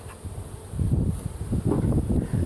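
Honey bees buzzing around an open hive while frames are collected, a low droning hum that swells louder partway through and stays close and continuous.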